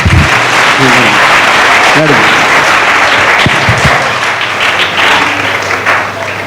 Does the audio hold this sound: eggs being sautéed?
no